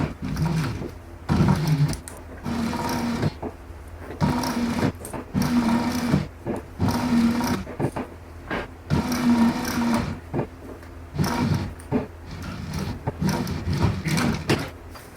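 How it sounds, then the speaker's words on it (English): A sewing machine stitches up a folded seam on a leather backpack, running in short bursts of rapid mechanical stitching separated by brief pauses, close and moderately loud with no talk. "tuck the edges of this seam into itself to kind of mimic the top stitch and sew it up"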